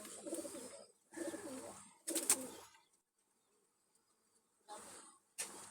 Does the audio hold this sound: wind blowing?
no